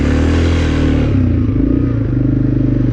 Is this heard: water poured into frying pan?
no